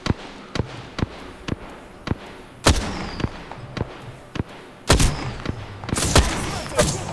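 Gunfire in Apex Legends: a steady run of sharp, single shots roughly half a second apart, with a few heavier, louder bursts mixed in, all close and with no talking over them.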